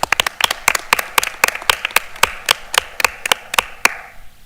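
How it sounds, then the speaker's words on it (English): A small audience at a school board meeting gives a round of applause for student athletes and their coaches, a sparse, uneven patter of claps from a few nearby hands, close and fairly loud, with no voices. "please give all these student athletes and these coaches that represent these student athletes one more round of applause"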